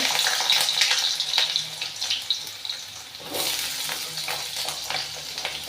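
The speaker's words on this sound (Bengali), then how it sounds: "তেলটা গরম হয়ে গেছে আমি দিয়ে দিচ্ছি আলুগুলো" Potatoes dropped into hot oil and frying, a hissing sizzle up close that dips briefly and then swells again, steady and unaccompanied by speech.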